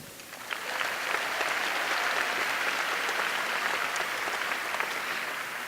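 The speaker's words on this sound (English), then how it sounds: "I would like to start my speech by giving a round of applause to Ms. Goldberg and the band." An audience bursts into applause after the opening of a speech, the clapping swelling within the first second and then sustaining as a broad, even crowd ovation at moderate distance.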